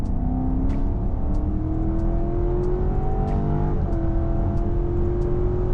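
A 2025 BMW X5 M60 SUV accelerates hard in sport mode, its engine note climbing steadily through the gears with a brief dip at a shift, heard loud from inside the cabin.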